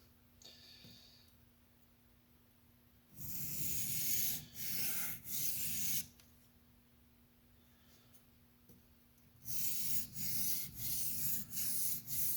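A TRM Atom knife is sharpened freehand to raise a bevel, giving bursts of rhythmic abrasive rubbing strokes, a cluster of passes early, a quiet pause, then another run of strokes, close and fairly loud.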